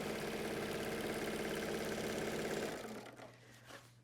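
A domestic sewing machine stitches fabric, understitching a trouser pocket, with a fast steady mechanical whir and needle chatter that runs continuously, then slows and stops near the end, leaving a low hum.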